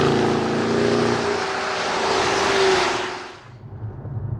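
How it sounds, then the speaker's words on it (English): Exhaust of a 2020 Cadillac CT6-V in sport mode, a loud, deep, throaty roar that rises and holds, then drops away sharply as the car eases off. "At the moment I have it in sport mode, and the exhaust is pretty meaty."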